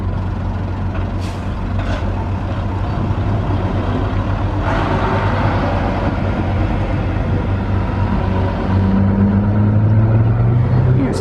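A classic Ford truck pulls in at a vintage British lorry gathering, its engine a steady low rumble that builds slightly toward the end, with an air-brake hiss and crowd chatter in the background.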